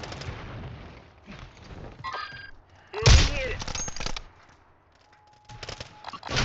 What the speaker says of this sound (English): I hear somebody shooting.